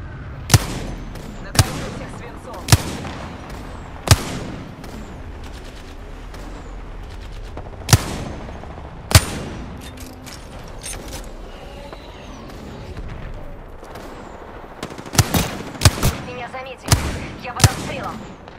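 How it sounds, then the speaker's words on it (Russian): Gunfire in the Apex Legends battle royale game: sharp, loud single shots and short bursts spaced every second or two, clustering into rapid volleys near the end over steady background game noise. "Я под обстрелом"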